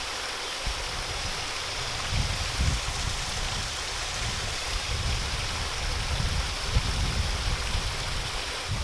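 A waterfall in a Japanese garden gives a steady, dense rush of falling water with wind noise mixed in, continuous and fairly loud throughout.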